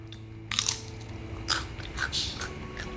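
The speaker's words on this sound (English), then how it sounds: "I like the crunch." Crisp crunching bites into air-fried carnivore-diet food, several sharp crackles and crunches close to the mic with short chewing pauses between them.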